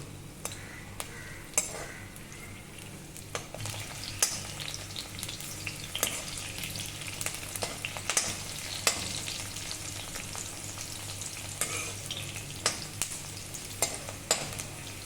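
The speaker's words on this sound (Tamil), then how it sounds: "இப்போ வெங்காயம் பொறிச்சு எடுத்தாச்சு" Sliced onions sizzle and fry in hot oil in a kadai for kadai paneer, a steady crackling hiss with scattered sharp pops and occasional utensil clinks, close and continuous with no talking.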